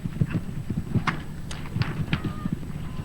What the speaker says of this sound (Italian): Furcade il cavallo è estremamente preciso, è un cavallo molto atleta e estremamente positivo.